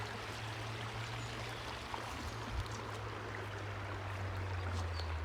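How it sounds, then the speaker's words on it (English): A river runs through Over Mill Green Nature Reserve with a soft, steady rushing flow, constant and fairly faint, with a low hum beneath it and no voices. "I want you to enjoy the lovely sound of the river flowing."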